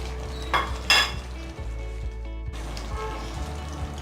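Pre-fried onions go into a sizzling kadai mushroom gravy, giving a steady close hiss of frying with a couple of louder bursts and light clinks of a spoon against the pan.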